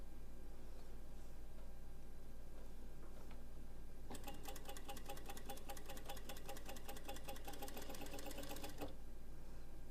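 A sewing machine needle stitches steadily with a T3 presser foot, a rapid, close, even rattle lasting nearly five seconds after a quiet stretch of faint room noise.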